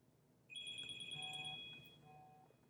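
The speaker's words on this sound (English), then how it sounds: "Oh, getting another phone call here." A phone rings with an incoming call, a steady electronic ringtone heard alone at a moderate distance in a quiet room, holding a sustained melodic tone for about two seconds.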